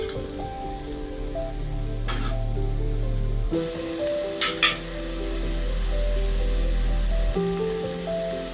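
Sardines fry in a pan with shallots, garlic and cumin, giving a steady, loud close sizzle that runs without a break, with a few brief stirring clatters.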